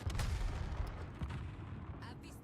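Missile launches in the World of Warships naval combat game, a dense, continuous rumbling barrage of low booms and blasts that stays loud throughout.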